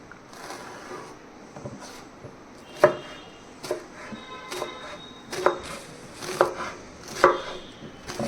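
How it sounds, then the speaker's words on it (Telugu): Ridge gourd is chopped into pieces with a knife on a board, a series of sharp, close thuds at uneven intervals, getting more regular toward the end, with quiet kitchen room tone between cuts. "మనకి కావాల్సిన అంత సైజులో అయితే ముందుగా బీరకాయ ముక్కలను అయితే కట్ చేసుకుందాము"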